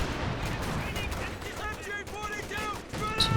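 Gunfire and a shotgun blast ring out in the Company of Heroes 2 strategy game, sharp repeated shots and bursts over constant battle noise while a commentator talks throughout.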